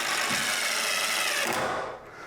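Power drill driving a screw at an angle into a wooden stud, one continuous whirring run that stops abruptly near the end and drops to quiet.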